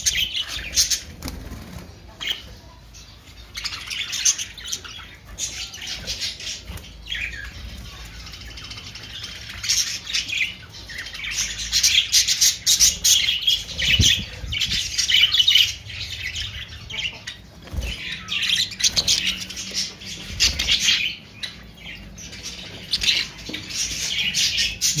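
Pet lovebirds kept in clay pots on a home rooftop, a flock squawking and chirping constantly in shrill overlapping bursts, with occasional wing flutters.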